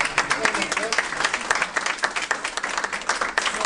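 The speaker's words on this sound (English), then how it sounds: "I want you everybody to give a round of applause to Jeff Verdugo" Audience applause for Jeff Verdugo at a money-making seminar, steady dense clapping from a crowd that holds evenly for several seconds, with some voices mixed in.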